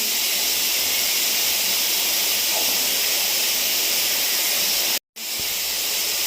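Chopped potatoes added to a hot pan for singara filling, giving a loud, continuous sizzling hiss that cuts out abruptly for a moment and resumes.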